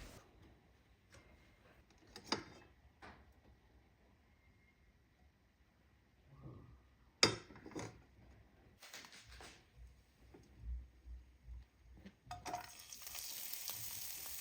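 Oil and chopped onions fry in a pan, starting as faint sizzling with a few sharp clatters, then a denser crackle and louder sizzle building after the onions go in.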